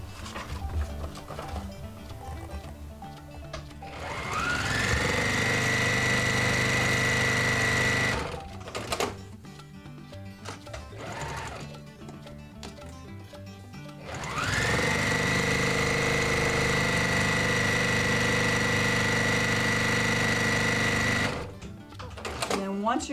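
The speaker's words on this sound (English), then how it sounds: "now I'm gonna stitch on these shadowed lines here" A sewing machine stitches along printed lines on triangle paper, running in two long steady bursts of several seconds each with a short pause between, close and loud.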